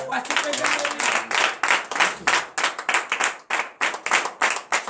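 A congregation at a morning prayer service in Benin claps steadily, the applause rising and pulsing in waves for several seconds, loud and near.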